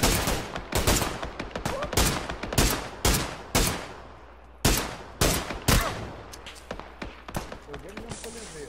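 Loud, close gunfire in PUBG, with a series of sharp single shots and short bursts at an uneven rhythm and a brief pause midway, under players talking.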